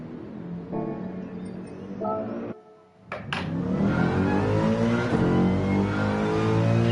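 Mercedes race car engine lapping Grand Valley in Gran Turismo 7, revving through gear changes with a brief dip before rising again to a sustained, loud high-revving drone.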